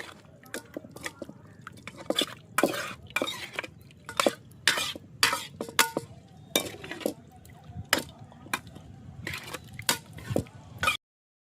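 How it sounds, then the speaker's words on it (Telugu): Chicken is stirred into ginger garlic paste in a pot, a spoon scraping and clinking against the metal in quick irregular strokes, close and fairly quiet with a faint sizzle beneath. "ఇంకా చికెన్ అయితే దాంట్లో వేసుకొని కలిపెట్టుకుందాం."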